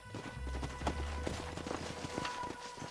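Horse hooves clip-clop in Red Dead Redemption as riders come to a halt, steady and fairly close over a low rumble, with a few faint scattered sounds behind.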